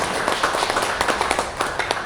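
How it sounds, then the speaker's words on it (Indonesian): An Indonesian seminar audience claps steadily on cue for a speaker, producing dense, moderately loud applause with sharp individual claps throughout the short stretch and no talking over it. "Tepuk tangan buat saya Bapak Ibu"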